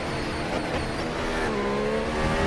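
Race car engine in a mobile racing video game, a sustained high whine with shifting pitch as the car overtakes a Mercedes rival, steady and close with no voices.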